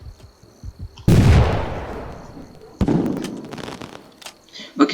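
Two sharp, loud gunshot-like bangs with booming decays ring out in the Roblox game Wild West, separated by a couple of seconds, followed by a brief crackle.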